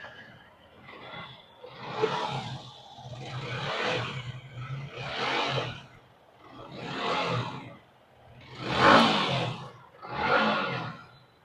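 A used motorcycle, apparently fitted with non-stock tyres, revs up close by in six separate rising bursts, each swelling and falling back to a lower idle, with no talking.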